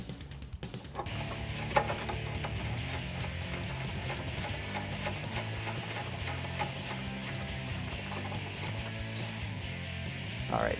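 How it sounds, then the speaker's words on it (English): A ratchet clicks steadily and continuously while tightening the suspension end links on a 2011-2020 Dodge Challenger R/T during an Eibach Pro-Plus kit install, a close, even mechanical ratcheting with no talk. "So next we can tighten down the end links."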